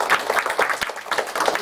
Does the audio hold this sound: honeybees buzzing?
no